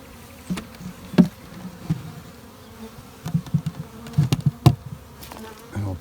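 A honey bee swarm buzzing steadily at a hive, with scattered sharper taps and knocks rising through the continuous hum.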